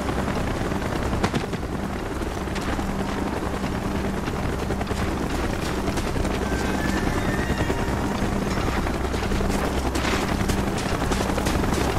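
A military helicopter in the video game Call of Duty Black Ops thunders close by, its rotor chop a constant, dense pulsing drone with heavy low rumble and wind-like hiss that holds steady throughout.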